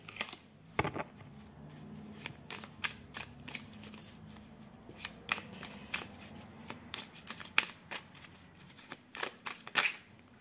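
A deck of oracle cards is handled and shuffled up close, making quick papery riffles and flicks in irregular bursts with soft handling noise between them.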